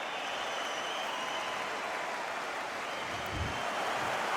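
A boxing arena crowd in the game Undisputed roars and claps in a steady, broad wash of noise during a Joe Frazier versus Vitali Klitschko fight, with a low thump near the end.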